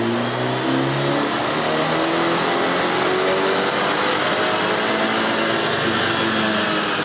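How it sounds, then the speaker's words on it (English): A BMW 330i with the B48 engine and a JB Plus tune revs hard on a dyno, its loud, continuous engine note climbing steadily through the run with a broad whooshing roar and no pauses. "Now, let's run it on the dyno and see how much gains we get."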